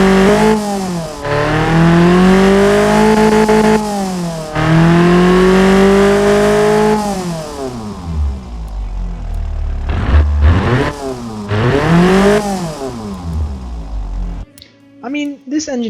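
Toyota 22R-E 2.4-liter four-cylinder with a custom header and exhaust in the Automation game, loudly started and revved in repeated rising and falling sweeps, then settling to idle and cutting off near the end.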